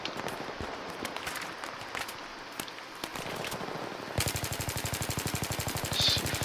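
In Battlefield 3, gunfire sounds as scattered distant shots over ambient game noise, then a loud rapid automatic burst of evenly spaced rounds for the last couple of seconds.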